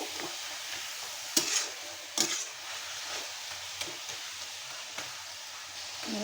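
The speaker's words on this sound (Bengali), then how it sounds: "এটা আমি আরও নেড়ে ফেরে আরও 2 মিনিটের মতো রান্না করব।" Spicy leafy greens fry softly in a pan, a gentle steady sizzle broken by a few sharp scrapes and knocks of a spatula as they are stirred, close and with no talking.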